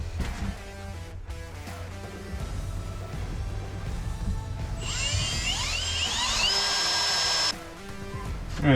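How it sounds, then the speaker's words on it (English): A power drill bores holes for a Polaris General accessory, whirring close and loud, then climbing to a high-pitched whine as the bit cuts through and stopping abruptly before a short burst at the end. "And let's get some holes drilled."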